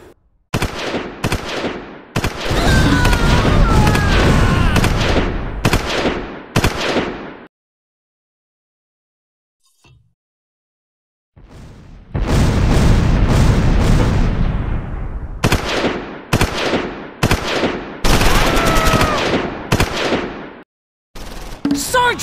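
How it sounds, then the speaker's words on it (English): An artillery barrage in a WWII video game arrives as heavy, loud bursts of explosive fire in long clusters, with a near-silent gap in the middle before the rumbling volleys resume. "which is why I put the barrage there"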